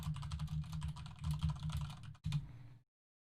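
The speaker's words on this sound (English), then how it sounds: "Sorry if you can hear my keyboard clicking and clacking" A computer keyboard is typed on quickly and steadily, close by, with dense clicking and clacking keystrokes that pause briefly and then stop abruptly into silence.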